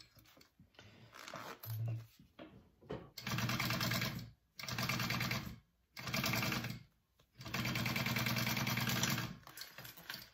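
A sewing machine bastes a zipper onto a shoulder bag in several short bursts of rapid stitching, each a few seconds long, separated by pauses, moderately close and with no talking.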